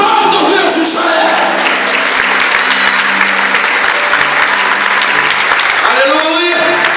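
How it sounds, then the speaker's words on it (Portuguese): A church congregation applauding, a loud, dense, sustained wave of clapping with voices rising through it and a speaker's voice coming in near the end. "Aplauda o Deus de Israel."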